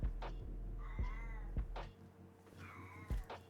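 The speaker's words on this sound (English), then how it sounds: "Is that why you're meowing?" A cat meows twice, loud and close, each drawn-out cry rising and falling, with a few dull thumps and knocks around them.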